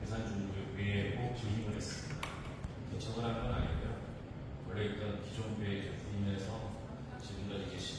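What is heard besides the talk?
None of the usual background noises is heard.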